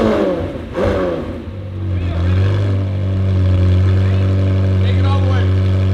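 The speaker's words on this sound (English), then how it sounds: "Rev it up." A McLaren exotic car's engine revs up hard and holds near its peak, a loud close drone that rises and sustains, with people talking over it.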